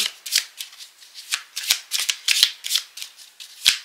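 Petit Lenormand cards are shuffled close up in a rapid series of crisp riffling bursts, each a papery flutter with soft taps, repeating steadily with no talk over them.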